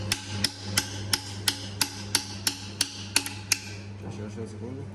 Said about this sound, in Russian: без молотка никуда, я понял,